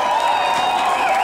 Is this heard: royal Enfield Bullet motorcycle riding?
no